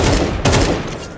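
Counter-Strike gunfire crackles in a dense, rapid volley of shots, loud and close throughout, with a sharp spike of fire near the middle.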